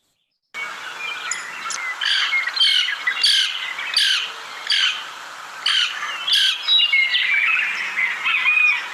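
Harsh, squawking woodpecker calls repeat in a steady series of about a dozen notes, fairly loud and close, over a quiet background.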